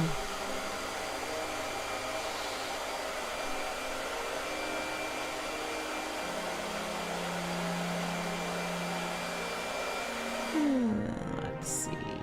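A blow dryer running indoors, a steady loud whooshing hum that holds evenly for about ten seconds before a brief clatter near the end.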